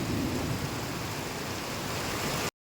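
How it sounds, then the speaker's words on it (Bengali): Heavy rain pours down steadily at a market during a thunderstorm with frequent lightning, a dense, loud hiss with no break until it cuts off abruptly near the end. "প্রচুর বৃষ্টি দুই ঘন্টা ধরে বৃষ্টি হইতেছে"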